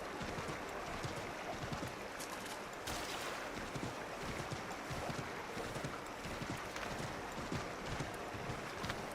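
Horse hooves clip-clop in a steady, continuous trot in Assassin's Creed 3 Remastered, fairly close and moderately loud over ambient wind and water, with no talk over them.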